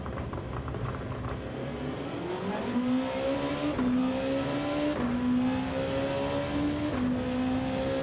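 Mercedes race cars in Gran Turismo 7 roar steadily at high revs, engine pitch climbing through each gear and dropping sharply at every shift, a loud continuous drone with no talking over it.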